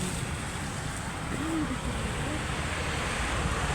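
Rough sea waves during high tide wash in with a steady, roaring surf under heavy wind buffeting the microphone, loud and continuous, with a brief faint voice in the background.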